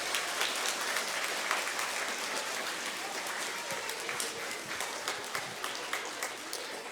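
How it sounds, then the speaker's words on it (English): Applause at a school Blue Ribbon recognition celebration, a fairly soft, steady patter of clapping from a crowd that continues for several seconds with scattered sharper claps. "One last round of applause for those folks."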